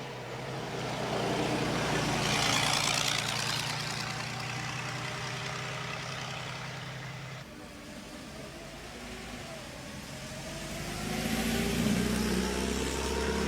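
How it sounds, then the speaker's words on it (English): A vintage Vauxhall 3098 pulls away from the start line at Prescott hill climb, its engine droning steadily and loud throughout, with the pitch and level shifting as it accelerates. "Off the line goes Noel Runnels-Moss, sharing the Vauxhall 3098"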